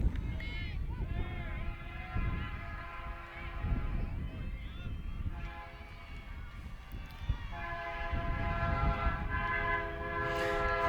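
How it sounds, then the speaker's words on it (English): A passing train near a baseball field sounds its horn in long, sustained blasts over a rolling rumble, with a game announcer talking throughout. "we do have a train coming, so must be the 7:20"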